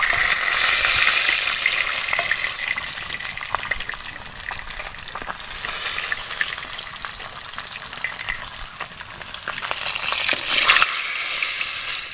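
Pieces of rohu fish sizzling and frying in hot oil in a village kitchen, a loud continuous crackle with occasional stirring and spattering bursts close by.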